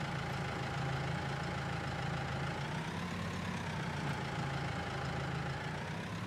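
A small Ford 8N tractor pulling a fertilizer spreader loaded with lime in Farming Simulator 22 drones along with a steady, continuous mid-low engine hum, unchanging and close, with no talking.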